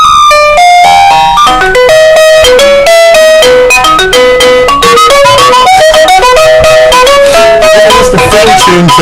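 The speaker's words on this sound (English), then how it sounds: "It's the theme tune to The Little Mermaid." A novelty doorbell ringtone plays The Little Mermaid theme tune as a loud electronic melody with bright, bell-like synthesized notes that continue steadily throughout.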